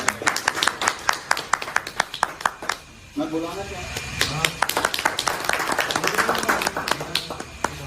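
At a Hindi poetry recital (kavi sammelan), an audience claps steadily in a loud, crisp, continuous burst of handclaps that carries on while someone briefly speaks over the clapping.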